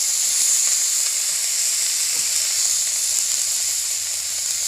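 Onions fried in oil for a Bangladeshi dried-fish dish with water lily stems, cooked in a village kitchen, give a steady, close hiss of sizzling that holds at an even level throughout, with no talking.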